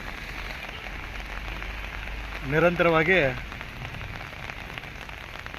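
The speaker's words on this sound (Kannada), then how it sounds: "ಇದು ಭಾರೀ ಮಳೆ ಇವತ್ತು ಬೆಳಗಾವಿನಲ್ಲಿ" Heavy rain with hailstones falls in Belagavi, Karnataka, giving a steady pattering hiss throughout. A voice briefly speaks over it midway.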